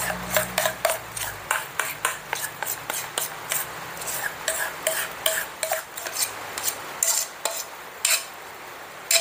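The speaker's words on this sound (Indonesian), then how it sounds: "Oke, kita aduk lagi sebentar teman-teman" A spatula stirs cake batter in a bowl for an old-fashioned sponge cake, making a run of regular scraping, rubbing strokes against the bowl with light clinks, close and rhythmic, with no voices.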